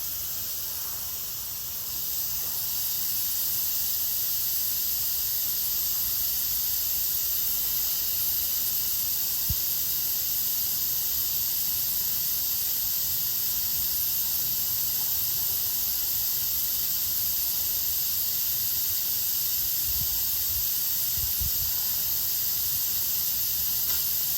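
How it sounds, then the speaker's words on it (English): Gas mist hissing from a Mr. Heater Fuel Keg propane tank refill kit during a refill, a steady broadband hiss that holds unbroken for over twenty seconds with a faint low rumble beneath. "Oh yeah, just saw some mist. That's what you're looking for."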